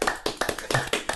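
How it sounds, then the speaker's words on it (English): A few sharp hand claps in an irregular burst, close and fairly loud, with no talking over them. "I'm going to give him a clap."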